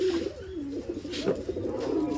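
Pigeons coo in soft, rolling calls, close by and continuous, over a faint background hum.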